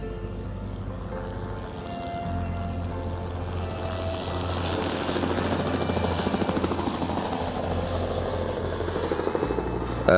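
A crop-spraying helicopter flies steadily with a loud, continuous rotor and turbine drone and a low pulsing beat, close by and holding level for the whole stretch with no talk over it.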